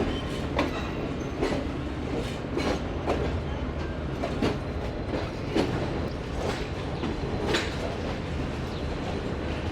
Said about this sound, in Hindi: तो ये आहिस्ता आहिस्ता शार्प कर्व लेते हुए ट्रेन हमारी क्लियर कर रही है प्लेटफॉर्म को।